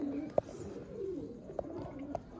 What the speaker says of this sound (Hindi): ये कबूतर ये मेरे उस्ताद जी के चौधरी कबूतर हैं।